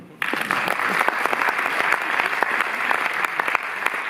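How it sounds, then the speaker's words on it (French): Audience applause fills a cinema presentation at the Cinémathèque in Paris, a dense, steady clatter of many hands that starts abruptly and holds loud for several seconds. "vous pouvez les applaudir."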